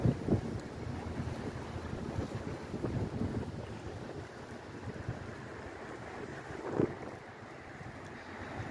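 Strong wind on the seafront in Florianópolis during a cyclone, steady roaring rumble against the microphone with a few harder gusts, mixed with the wash of the sea, no voices.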